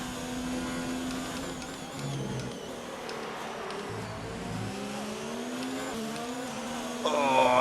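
A Formula 1 race car engine in the F1 2019 video game at the Austrian Grand Prix howls continuously at high revs, with gear shifts and rising and falling pitch and a louder surge near the end.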